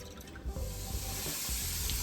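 Water runs steadily into a pot in a home kitchen at night, a continuous rushing splash with a few small knocks, close and fairly quiet.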